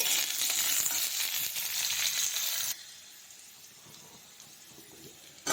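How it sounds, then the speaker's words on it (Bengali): Potatoes fry in a pan in a home kitchen during preparation of a vegetable chachori, giving a loud, steady hiss for about three seconds before the sizzle drops abruptly to a quieter background. "চলো আলুটা ভাজা হয়ে যাক।"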